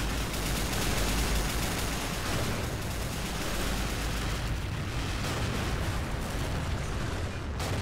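Dense, continuous gunfire and explosions fill a World War II video game battle, a steady loud wash of shots and blasts with no pauses and no talk.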